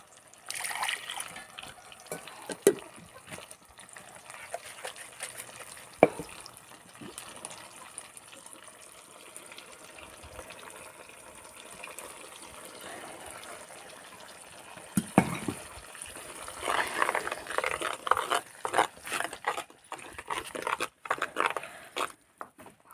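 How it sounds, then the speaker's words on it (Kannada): Water poured into a pan of finely ground masala during home cooking, a soft, fairly quiet trickling and gushing with a few sharper splashes and clinks, growing louder and busier toward the end. "ಇದಕ್ಕೆ ಒಂಚೂರು ನೀರು ಹಾಕಿ ತೊಗೊಂಡು ಬಿಡ್ತೀನಿ"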